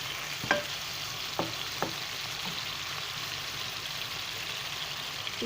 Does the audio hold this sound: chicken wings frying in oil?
yes